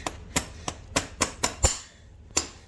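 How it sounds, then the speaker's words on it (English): A farrier's hammer drives horseshoe nails into a hoof wall in a sequence of sharp, close metallic taps, about eight strikes at an uneven pace with a short pause before the last. "be sure and drive your nails on the hoof wall"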